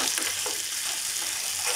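Deggi chili sizzling in melted butter for a tadka tempering over a Hyderabadi paneer dish, a steady close frying hiss that holds loud throughout with no talk.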